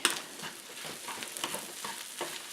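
Hamcakes frying in a pan give off a soft, steady crackling sizzle with small popping spurts, fairly quiet and with no talking.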